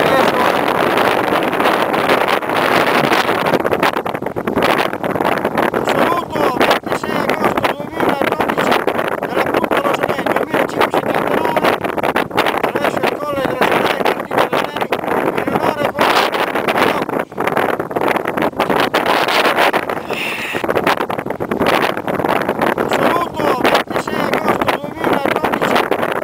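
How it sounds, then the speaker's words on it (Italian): Strong wind buffets the microphone high on an Alpine mountain pass near Punta Lazoney, a 2,579 m peak in the Valle Loo. The roar is loud, rough and continuous, with gusts swelling and easing. "Devo lasciare questo posto perché c'è un vento micidiale."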